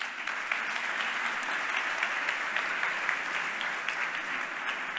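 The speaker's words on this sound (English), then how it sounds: "A big applause." Steady applause from a crowd at a hackathon closing ceremony fills the room, continuous and even throughout.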